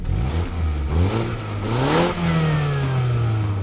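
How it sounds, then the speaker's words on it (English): A 2017 MINI Countryman Cooper S with its 2-liter turbo four-cylinder revs up loud and close, the engine note climbing steadily and then holding a higher pitch, with no talking. "this 2-liter turbo 4-cylinder in Cooper S models"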